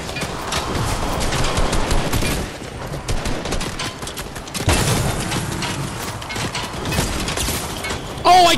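Fortnite Season 7 duos match with dense gunfire: repeated loud shots and rattling bursts run throughout, including sniper rifle fire, with game mechanism sounds in between and a brief voice at the end.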